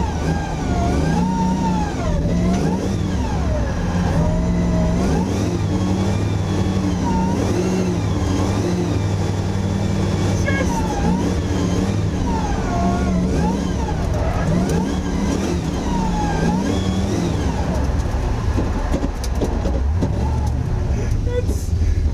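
A 525 bhp LS3-powered Nissan PS13 with Wisefab steering kit drifting, its V8 engine revving loudly and continuously with rising and falling pitch, up close from inside the car.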